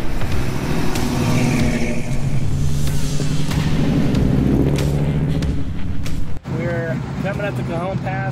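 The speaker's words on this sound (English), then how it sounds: "Car's running okay." A hot rod cruises along a road on the Hot Rod Power Tour West 2023, its engine a continuous loud low hum with road and wind noise, while voices talk over it.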